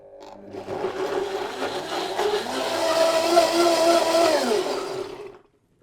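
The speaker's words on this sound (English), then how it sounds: "So I'm gonna blend this in our blender." A kitchen blender whirs through a thick vegan peanut satay sauce, starting up, running at a loud grinding whine for several seconds, then cutting off abruptly, with no voices.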